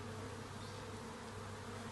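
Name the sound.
honey bees buzzing at a beehive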